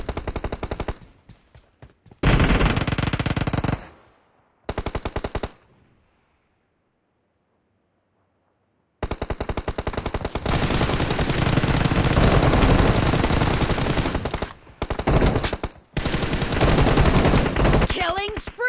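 Gunfire in the video game PUBG during a team deathmatch: dense automatic bursts, loud and close, broken by sudden silent gaps before rapid firing resumes.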